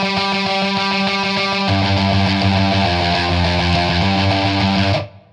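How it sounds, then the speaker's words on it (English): Crunchy overdriven electric guitar from Steinberg's Artefakt Guitar plays a chunky basic rock riff with sustained distorted chords, loud and upfront, then stops abruptly. "you can start with the crunchy sound like this basic rock here"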